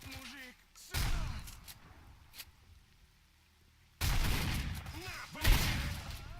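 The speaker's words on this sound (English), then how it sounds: "there's a delay between the shots" Gunfire in the video game STALKER: Shadow of Chernobyl, with two loud bursts of shots separated by a quieter stretch and a low voice under the first.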